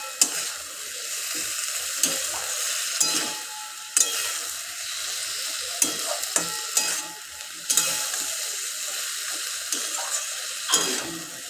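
Spices with dried chilli sauté in a pan, a continuous sizzle broken by repeated scraping stirs and sharp utensil knocks against the pan at irregular intervals.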